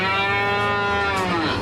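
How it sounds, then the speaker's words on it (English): Cow mooing, a loud, sustained, harmonic low call held steadily close by with no other sound. "that's an angry cow right there"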